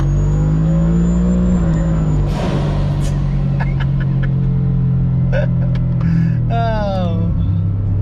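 A turbocharged Ford F-150 pickup launches off the brake and accelerates, its loud, steady engine drone rising in pitch with a whine climbing near the end, close and continuous, with brief talk in the background.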